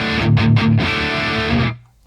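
A distorted electric guitar plays through the vintage channel of a heavily modded JCM 800-style amp preset, with loud chugging chords and a sustained ring that cuts off abruptly near the end.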